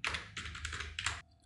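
Quick keyboard presses clack a few times in close succession on a computer keyboard during a DaVinci Resolve editing session, crisp and close, then the sound cuts off.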